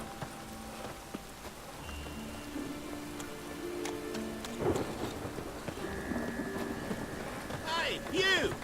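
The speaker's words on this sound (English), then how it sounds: "It's raining again." Steady rain with low thunder rumbles in The Witcher 3: Wild Hunt, a continuous wet hiss with a few heavier swells, under game voices and background chatter.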